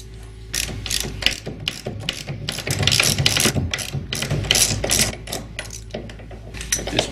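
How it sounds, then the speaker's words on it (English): Three jack stands are ratcheted in unison to lift a Steinway piano from its crate, making dense, overlapping metallic clicking close by in steady bursts. "we're going to raise the piano, turning the three jack stands simultaneously to raise the piano"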